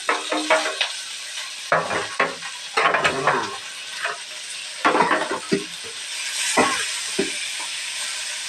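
Onions and tomato sauté in a pan with a soft sizzle, broken by repeated scraping and clattering strokes of a spoon stirring close by.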